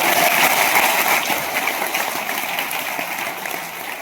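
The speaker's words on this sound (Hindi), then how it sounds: "तालियां बजाओ सर" Dense clapping from an audience at a meeting, a continuous hissy patter of many hands that starts loud and slowly thins and softens over a few seconds, with no voices on top.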